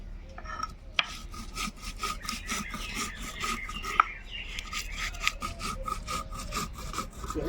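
Cumin, green chilli, mustard and ginger being ground into paste by hand, a steady rough scraping and rubbing repeating in quick strokes, close and fairly loud with no talk.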